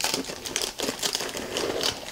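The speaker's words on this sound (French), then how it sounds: "on va quand même enlever le scotch" Masking tape peeled off watercolour paper, a close crackling, crinkling rip that comes in short uneven pulls with brief pauses between them.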